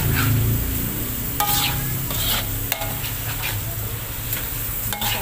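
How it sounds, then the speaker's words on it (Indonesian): Gulai tunjang stirred while frying in a pan, a continuous loud sizzle with scraping spatula strokes and occasional sharp clacks of the utensil against the pan, close and steady throughout. "Aduk-aduk ya temen ya, biar nggak ini,"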